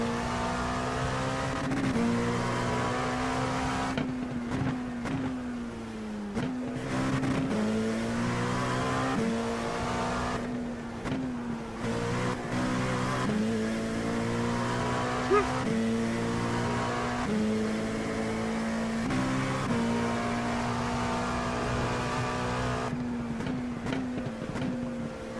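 An LMP2 race car in iRacing, engine droning and rising in pitch with repeated upshifts and brief lifts, loud and steady throughout with no voices.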